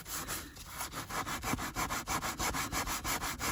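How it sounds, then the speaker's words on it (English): Fine abrasive rubs steadily back and forth over the dyed leather seat of a Jaguar XJR, soft rhythmic scratchy strokes repeating about four times a second, close and quiet. "if we just very carefully lightly sand gently"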